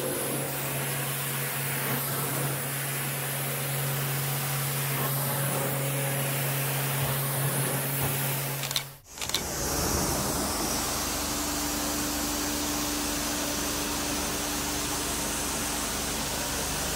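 Loud, continuous whooshing roar of a carpet steam cleaning machine in a home, briefly cutting out and then resuming with a slightly different pitch.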